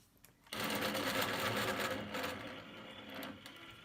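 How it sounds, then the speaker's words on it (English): A sewing machine stitches binding onto fabric using a binding tool, starting abruptly and running steadily at close range for several seconds with no talking. "So I'm going to sew."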